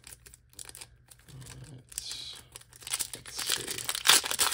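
Crinkling and tearing of foil wrappers as 1997 Press Pass Premium trading card packs are ripped open, close and intermittent, building to a sharp rip near the end, with a brief spoken word.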